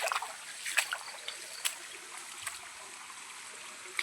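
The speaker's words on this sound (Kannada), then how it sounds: "ಇದು ಕಾಡಿಂದ ಬರುವಂಥ ನೀರು ಇಲ್ಲಿ ಹರಿದು ಹೋಗುತ್ತೆ" A small stream flowing out of the forest near a village in the rainy season, a faint, soft trickle with light splashes and occasional ticks, heard alone and quiet.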